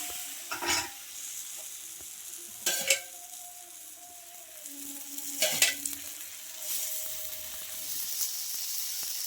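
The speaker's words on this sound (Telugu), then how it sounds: "ప్రతిసారి కలుపుకోండి, ఎందుకంటే కలుపుకుంటేనే మీకు బాగుంటుంది పిండి అనేది" A spoon stirs rice flour batter cooking in a pan on the stove, giving a few soft, scraping strokes over a steady low sizzle, with no talking.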